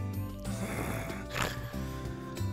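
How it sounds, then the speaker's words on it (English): Snoring sound effect from a visual novel, a girl asleep in bed, with repeated rough snorting breaths in a steady rhythm, close and fairly loud. "Sumina is in bed, snoring away like always"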